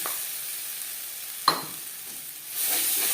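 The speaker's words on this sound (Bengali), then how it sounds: "আর দিয়ে দেব বেটে রাখা মটরশুঁটি" Ground green peas hit a hot frying pan and get stirred, giving a steady close sizzle with a sharp spatula scrape midway and the frying swelling louder at the end.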